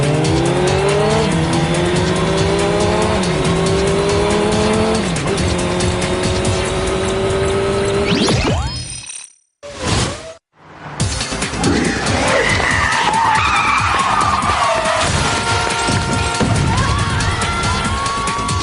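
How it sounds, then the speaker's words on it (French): Racing motorcycles roar past with screeching tire skids, loud and continuous engine whine with sweeping pitch changes, broken by a sudden near-silent gap before the roaring resumes. "Les motos du Whoop viennent à votre rencontre."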